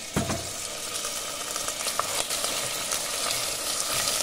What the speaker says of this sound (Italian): girate del tutto e fate soffriggere